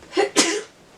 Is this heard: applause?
no